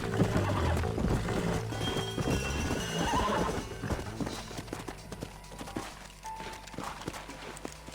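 Horse in Red Dead Redemption Remastered, neighing and whinnying loudly while its hooves clip-clop close by, with a dense game soundscape underneath that thins out toward the end.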